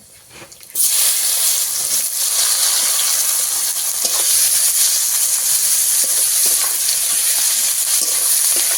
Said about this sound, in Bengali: ফোড়নে দেবো গোটা গরম মশলা কয়েকটা দারুচিনির কাঠ দিয়েছি চারটে এলাচ দিয়েছি চারটে লবঙ্গ দিয়েছি